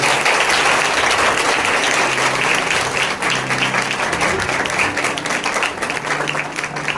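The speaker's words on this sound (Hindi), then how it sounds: "आज अपने आने के लिए जोरदार तालियां" Audience at a Christian women's seminar breaks into sustained applause, a dense wash of clapping that slowly thins toward the end while a voice murmurs underneath.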